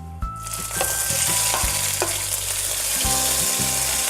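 Onion paste, ginger-garlic paste and spices sizzling loudly in hot oil while a spatula scrapes and stirs the pan in repeated strokes, close and continuous with no talking.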